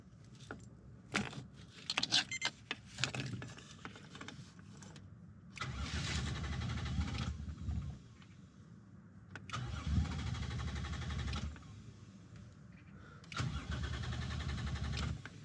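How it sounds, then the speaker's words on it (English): An abandoned Mercedes G63 AMG is cranked repeatedly without catching: four bursts of starter whirring separated by pauses, close and clear, with key rattles and clicks at the start. "Let's put the keys in, press the button, and try to start it."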